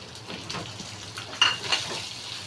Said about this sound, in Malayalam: ഞാനിപ്പോൾ കറിവേപ്പില ഇട്ടിട്ടുണ്ട്, പച്ചമുളക് ഇട്ടിട്ടുണ്ട്.